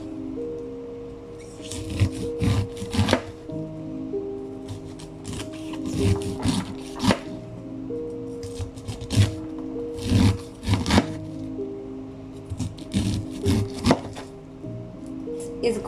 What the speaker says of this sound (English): with a knife, we're going to cut it like that